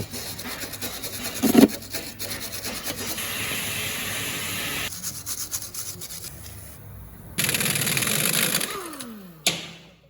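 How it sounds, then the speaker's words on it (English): A wire brush works back and forth on a rusty bolt thread from an old Ford Focus, giving a loud, continuous close rasping scrub with a few sharp knocks and a brief pause near the end. "you're going to have to give that a bit of a clean up with the old wire brush, Tyler."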